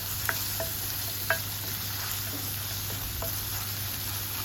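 Onions frying in oil with salt for gongura chicken curry in village-style cooking, a steady close sizzle and crackle throughout, with a few faint clinks and no talk.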